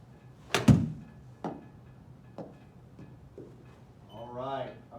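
SM9 60-degree lob wedge striking golf balls: one sharp, loud thwack followed by a few fainter, spaced hits, with a short voiced sound near the end.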